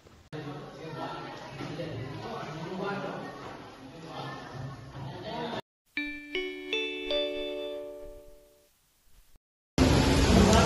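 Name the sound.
school bell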